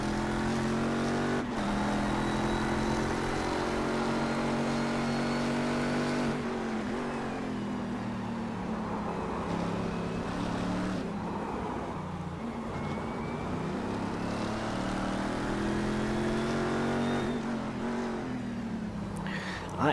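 Race car engines roar steadily in the iRacing simulator at Motegi, a close, continuous drone with shifting pitch as cars accelerate and shift, loud and without talk.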